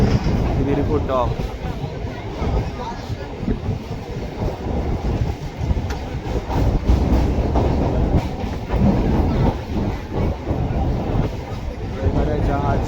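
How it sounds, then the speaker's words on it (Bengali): Inside a moving train near Khidirpur station, a steady loud rumble and rattle of the carriage with rhythmic wheel clatter, while people talk throughout. "ট্রেনের মধ্যে রয়েছি"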